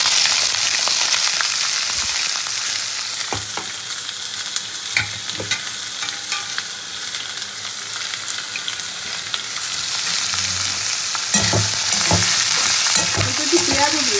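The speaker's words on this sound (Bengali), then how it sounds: "ফোড়ন ভাজা হয়ে গেছে, এবার সবজিগুলো দিয়ে দেবো" Mixed vegetables and a little onion are stirred in hot oil over a fried mustard-seed tempering, giving a steady close sizzle broken by scraping, clattering spoon strokes, with no talking.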